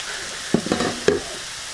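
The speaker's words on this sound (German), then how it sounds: "die Paprika auch gleich mit in die Pfanne dazu" Bell peppers and other vegetables frying in a pan, a steady sizzle with a few clattering stirs and scrapes against the pan partway through.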